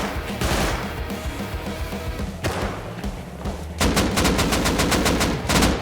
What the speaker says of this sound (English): And he's shooting back to a base.